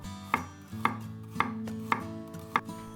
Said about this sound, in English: Mince 60 grams of shallots and 20 grams of garlic.